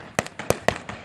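Fireworks bursting over Ocean City, Maryland, with three sharp, loud booms spaced evenly about a third of a second apart, each followed by fainter crackle and echo.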